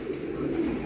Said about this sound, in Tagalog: ito yung dumating kahapon na ibon ni Brother Geranold